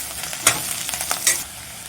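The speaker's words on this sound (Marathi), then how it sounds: "आता आपण मिक्स करून घेऊया ती भाजी चांगली कांद्यामध्ये" A wild leafy vegetable is stirred into onions in a hot pan, several quick scraping spatula strokes over a steady close sizzle, with no talking.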